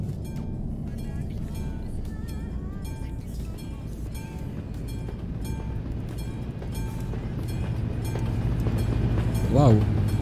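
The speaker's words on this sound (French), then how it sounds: "il y a un train qui va passer" Train passing a level crossing in the Euro Truck Simulator 2 driving game, a steady rolling rumble with rhythmic clicking and a brief horn-like tone near the end, heard under someone talking.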